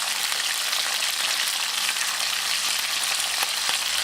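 Chicken pieces brown in a hot pan, a loud, even sizzle holding steady throughout with faint crackles and no voices.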